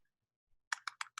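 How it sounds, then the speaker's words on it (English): Four quick, crisp keystrokes on a computer keyboard in an otherwise quiet room, evenly spaced and close to the microphone. "I'm gonna start typing here"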